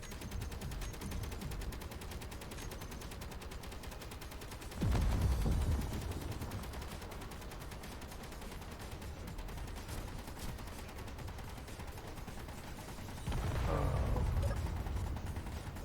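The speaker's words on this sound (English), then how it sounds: "Yes, I hear the explosions." Bursts of gunfire and explosions from an aircraft combat scene, heavy booms arriving in two loud surges over a continuous rattle of shots, with no voices.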